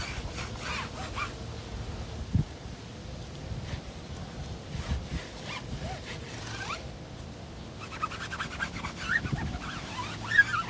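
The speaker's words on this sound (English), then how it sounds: "And then give it a rub down." Rubbing tire dressing onto a car tire by gloved hand at a car wash, a series of soft, close scrubbing and wiping strokes with irregular rhythm, quiet and alone without talk.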